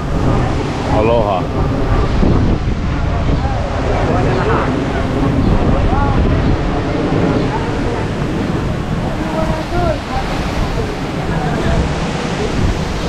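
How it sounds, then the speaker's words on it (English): Strong gusty wind blowing outdoors at the Maui Ocean Center, a loud continuous roar and buffeting across the microphone, with people talking faintly underneath. "It's really windy here."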